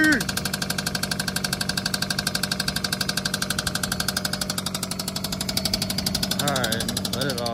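A cheap salvage-auction car's engine runs badly, a close, loud, rhythmic knocking idle with a steady pulsing beat and a slight revving lift near the end.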